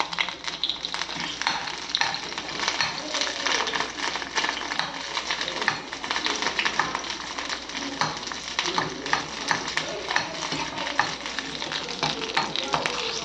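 Green chillies sauté in hot oil for a Tamil-style nalli (bone marrow) curry, a steady dense sizzle and crackle with occasional stirring scrapes, close and continuous throughout.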